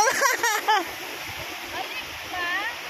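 Sea waves splashing on a shore, a steady wash of surf with voices and a child's cries over it at the start.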